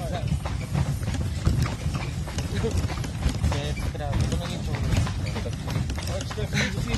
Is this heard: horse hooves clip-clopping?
yes